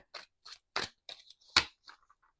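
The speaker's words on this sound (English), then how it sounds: "I'm going to shuffle the higher self ones now." Tarot cards shuffled by hand in a quiet room: a string of short, crisp riffling bursts and slaps, close and fairly loud, with brief pauses between each.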